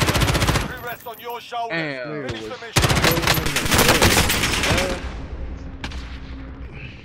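Rapid bursts of automatic gunfire in Call of Duty: Modern Warfare, loud and close, with sustained machine-gun volleys, scattered single shots and a player shouting in between.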